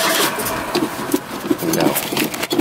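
A Pontiac Trans Am engine cranking on a cold start and being given gas, a rough, uneven mechanical churn that pulses and sputters without settling into a steady idle, close and loud.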